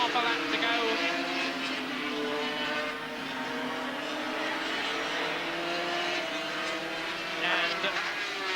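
Grand Prix superbike motorcycles racing in 1984, several high-revving two-stroke engines whining together with rising and falling pitch as they pass, under continuous race commentary.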